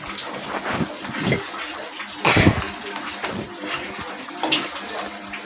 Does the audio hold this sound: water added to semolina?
yes